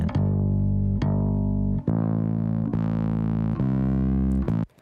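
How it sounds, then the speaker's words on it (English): A sustained, harmonically rich vocal tone with gritty, clipped distortion from heavy compression (CLA-76 compressor plugin), broken by brief gaps into several held segments, loud and alone. "you can hear that distortion coming in"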